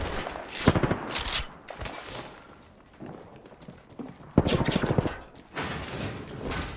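Gunfire in the battle royale game Apex Legends comes in loud bursts of rapid shots, one near the start and another later, with quieter game noise between and occasional voices.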